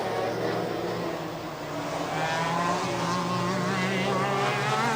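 A superkart racing engine at Zandvoort drones loudly and continuously as the kart passes through, its pitch sliding slightly, with a commentator talking over it throughout.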